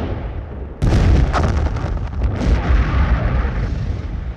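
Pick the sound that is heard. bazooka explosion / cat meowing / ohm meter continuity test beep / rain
bazooka explosion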